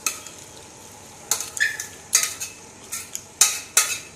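Turmeric curry with fresh coriander stirred in a pan: a series of sharp spoon scrapes and metallic taps come in irregular bursts over a faint background hiss, close by and without speech.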